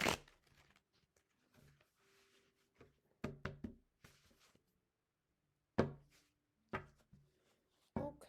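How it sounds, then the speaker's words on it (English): A deck of playing cards being shuffled by hand, heard as a few short riffling bursts and sharp snaps separated by pauses, close and fairly quiet with no talking. "I need to shuffle some more."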